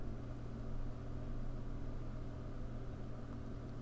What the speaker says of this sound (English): capturing nothing but just the kind of ambient room noise without you talking, which sounds like this.